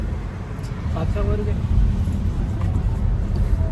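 A car engine rumbles low and continuous from inside the vehicle while it moves, with voices talking over the steady drone.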